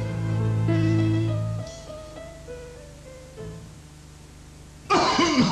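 A sudden harsh cough bursts out near the end of an Indonesian television commercial for a herbal cough remedy from Dami Semarang, following a stretch of soft tonal music.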